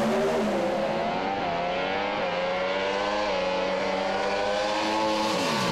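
A Pro Stock drag racing car roars at night at Willowbank Raceway, its engine note climbing and dropping as it shifts up through the gears, loud and continuous with no talk.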